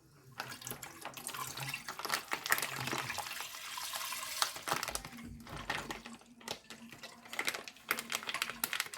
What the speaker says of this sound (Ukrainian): кастрюльку від мультиварки буду виливати літр молока.